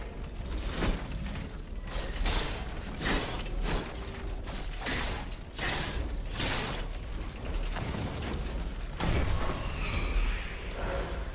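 Repeated bursts of gunfire and mechanical clanking from combat in the video game Steelrising, loud and dense, with sharp shots recurring throughout amid metallic game effects and no talk.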